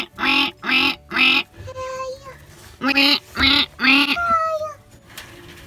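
Ducklings kept in a mobile chicken coop give a string of loud, close, nasal quacks in two bursts of three, with short chirps between them and a little background chatter.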